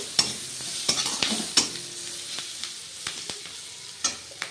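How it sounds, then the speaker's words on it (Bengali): Spice paste of turmeric, chilli and cumin powders frying with onion in a pan, a low steady sizzle punctuated by sharp clicks and scrapes of a spoon stirring at irregular intervals. "এরপরে পেঁয়াজের সাথে মশলাটা ভেজে নেব আমি"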